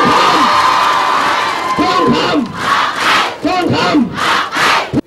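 A large crowd at a peaceful rally against a dam project shouts and cheers together in loud repeated bursts, with voices rising and falling in waves up close.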